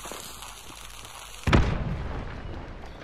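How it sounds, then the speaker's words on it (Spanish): A sudden loud boom of dynamite going off in Hunt: Showdown, a single close blast that rumbles and decays over a second or so. "Granada. Dinamita."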